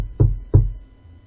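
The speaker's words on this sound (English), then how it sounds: "Melanie walked up the creaky front porch and knocked on the wooden door" Two dull, heavy knocks on a wooden front door, evenly spaced and close, with a hollow low thud and nothing else around them.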